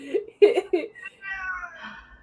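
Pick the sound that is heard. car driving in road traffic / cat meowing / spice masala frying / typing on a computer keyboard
cat meowing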